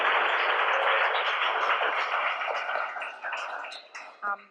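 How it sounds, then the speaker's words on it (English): Applause from an audience welcoming poets at a poetry event, steady clapping filling most of the stretch, then thinning and tapering off toward the end with a short burst of voice. "Can we please have a warm round of applause to welcome the poets?"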